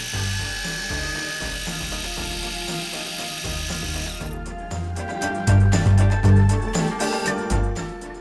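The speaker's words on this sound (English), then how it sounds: "Now if I run this shaving trimmer, here you can see it's perfectly running." A Xiaomi Enchen Blackstone electric shaver with a 3D floating blade hums steadily close up, its motor drone joined halfway by rapid rattling, ticking pulses as it runs alone without talk.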